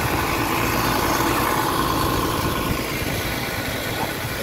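A motor drives a water pump beside a palm plantation, running in a continuous, fairly loud rumbling drone with steady vibration and no talk over it.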